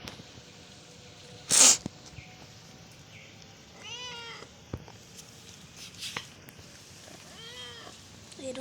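A pet cat resting outdoors in sunshine gives a few faint, short meows spaced apart against a quiet breezy background, with one louder brief burst early on.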